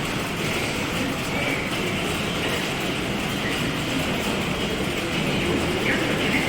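Steady, dense rumble of a train at Sakinaka metro station, with constant broadband station ambience throughout and no clear pauses.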